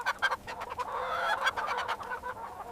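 Chickens at a breeder farm cluck and chatter nearby in quick overlapping bursts, with a faint steady hum underneath.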